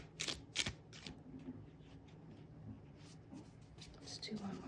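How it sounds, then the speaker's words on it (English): A deck of cards is shuffled by hand during a tarot-style reading, crisp riffling bursts near the start followed by softer intermittent shuffling and card handling, faint and close. "Let's do one more shuffle."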